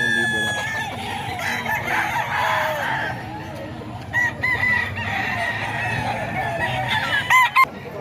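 A gamecock at a cockfight crows loudly nearby, its cock-a-doodle-doo ringing out over a busy crowd murmur while someone talks, with further clucks and crows breaking through near the end.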